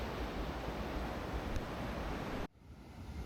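Broad wash of ocean surf rolling onto the volcanic sand at Berawa Beach, Bali, a steady roar mixed with wind buffeting the microphone, then abruptly dropping to a fainter rumble.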